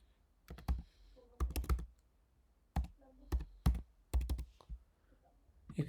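Computer keyboard typing while entering a country code into a web fax form: short bursts of several quick, close key clicks separated by pauses, with no talking.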